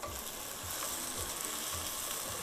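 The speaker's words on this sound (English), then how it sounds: "So we're going to give this about 2 minutes to saute." Vegetables sautéing in a hot pot give a continuous close sizzle and hiss, with soft low thumps of stirring at irregular intervals.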